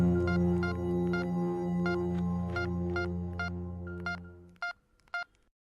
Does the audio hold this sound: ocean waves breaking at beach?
no